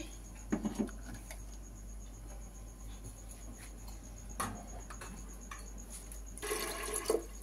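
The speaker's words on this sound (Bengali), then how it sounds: "আর একটু জল দেবো আমি অল্প করে।" Water poured in small amounts into a pot of dal for tarka daal, brief splashing, gurgling pours at intervals, the last one longer, fairly quiet against a faint steady hum.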